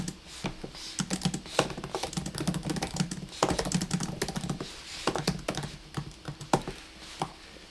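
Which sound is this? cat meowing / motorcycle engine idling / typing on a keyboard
typing on a keyboard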